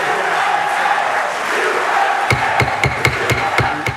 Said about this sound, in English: Even inside the Senate chamber itself, applause broke out as the 33rd vote in favor of gay marriage was announced